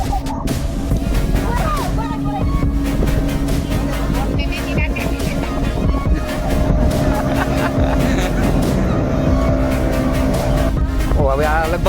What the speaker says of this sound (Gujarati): જોઈ લે આ ગાઈસ આવે છે બીજી હોડી